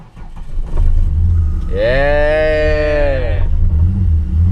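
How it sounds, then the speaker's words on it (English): A 1999 Holden VT Commodore engine rumbles low and steady up close, with a loud shout over it partway through. "See if she cranks."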